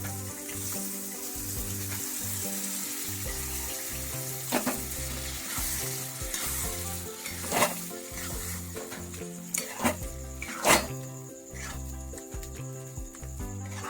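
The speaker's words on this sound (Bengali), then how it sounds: "ডিমটা এর সঙ্গে একটু নাড়াচাড়া করে নিয়ে এরপর আমি যে ডালটা সেদ্ধ করে রেখেছি এর মধ্যে ঢেলে দেবো" Egg stirred into sizzling masala in a pan for dhaba-style egg tadka, a loud continuous frying hiss close by with scattered spatula scrapes and taps, no talking.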